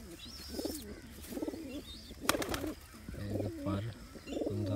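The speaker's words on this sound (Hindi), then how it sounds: "ये मेरे बहुत ही रिजल्टेड कबूतर है।" Resulted Rampuri pigeons coo repeatedly close by in bursts of soft throaty rolling calls, with some thin chirps and a brief clatter, while a voice is faintly present in the background.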